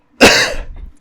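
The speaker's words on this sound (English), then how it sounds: "as he goes into a coughing fit." One sharp, loud cough bursts out close by, then trails off into a rough, raspy exhale.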